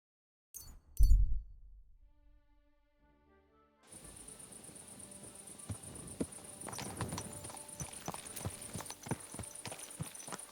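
Hooves clip-clop in a steady, quick rhythm over a faint high tone, after a single dull thud and a short quiet stretch, from the video game Kingdom Come: Deliverance 2.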